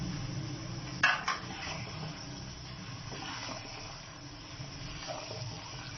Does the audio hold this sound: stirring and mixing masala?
yes